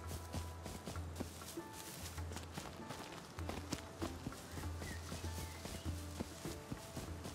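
Faint, rhythmic clip-clop of a horse's hooves galloping in the video game Rust repeats steadily over a low hum.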